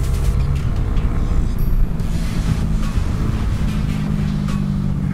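A KTM RC390 motorcycle pulls away onto a race track, its low engine drone heard onboard under heavy, constant wind roar on the microphone.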